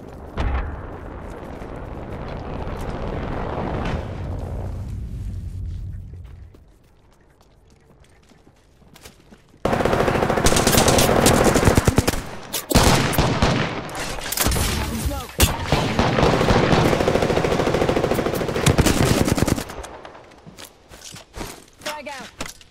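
Frag grenades and gunfire in an Apex Legends match: loud, dense bursts of explosions and rapid shots, dropping to a brief lull midway before heavy firing resumes, with a game voice calling out over it.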